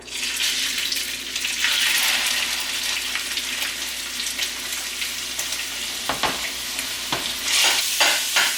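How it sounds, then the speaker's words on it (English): Ground chorizo, removed from its casings, fries in a hot pan while a spatula breaks it up, giving a steady close sizzle with sharp scraping strokes toward the end. "just start breaking it up with your spatula. Just cook this, stirring every so often until it's all brown"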